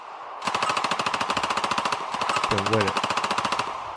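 Rapid machine-gun-style gunfire played as a sound effect salute, two sustained bursts of fast, evenly spaced shots, loud and close, with a voice briefly speaking over the second burst.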